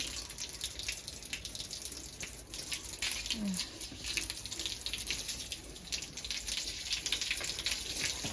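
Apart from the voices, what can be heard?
water running from a tap into a bath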